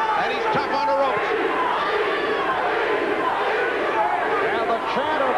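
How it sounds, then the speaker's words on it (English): Boxing arena crowd chanting and roaring continuously during a bout between John Mugabi and Frank Fletcher, a dense, loud wash of voices with rising shouts throughout. "the chant of peace from the crowd as Mugabi landed the big right hand"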